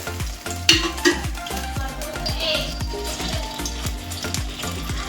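Oil heating in a pan for a fish curry sizzles and spatters close up, with rapid crackling pops and a low pulsing rumble running underneath throughout.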